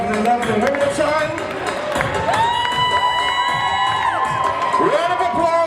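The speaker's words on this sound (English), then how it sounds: "Round of applause for Jax" A festive outdoor crowd at the Caribana 2019 kick-off in downtown Toronto cheers, whoops and shouts with some clapping, while whistles or horn-like tones ring out over the lively noise.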